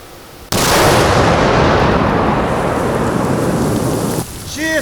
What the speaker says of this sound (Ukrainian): де й підірвано за допомогою накладного заряду вибухівки